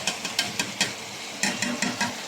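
Bananas and potatoes go into a pan of cooking pork ribs with a steady sizzle, and spoon or ingredient stirs land as a string of rhythmic scraping bursts near the pan.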